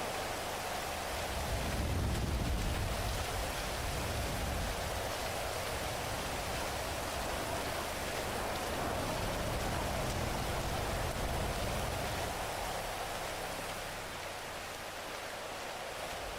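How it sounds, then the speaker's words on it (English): Loud, steady rain in the video game NoPixel 4.0 pours without a break, a dense hiss with a low rumble underneath. "God, the rain is just so loud"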